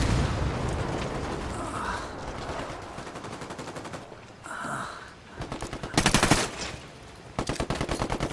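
Rapid automatic gunfire and heavy blasts, including a frag grenade explosion, in the Ghost Recon Wildlands shooter game, with dense overlapping bursts throughout and a loud detonation near the end.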